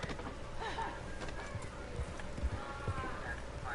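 A horse ridden in Red Dead online, with a few soft hoof thuds and clip-clops under a continuous game ambience and low background noise.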